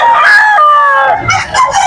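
A young stag rooster crows at a poultry market in Malolos, Bulacan, with one long, loud, nearby crow that breaks up and rises again at the end.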